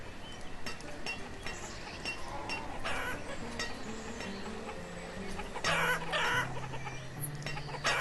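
A flock of chickens clucks in the village-building game Banished, soft repeated clucks and short calls over a quiet ambient bed, with no voices.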